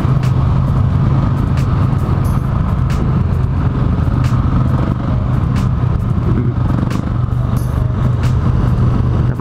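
A 2018 Husqvarna 701 Supermoto motorcycle engine runs with a steady, loud rumble and light mechanical clatter, continuous and close throughout.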